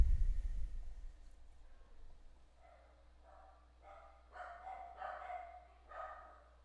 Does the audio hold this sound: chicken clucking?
no